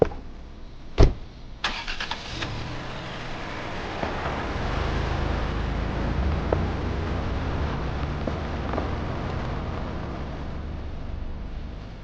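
A car engine starts with a sharp burst, then settles into a steady, low rumble as the vehicle pulls away and drives on, with no talking over it.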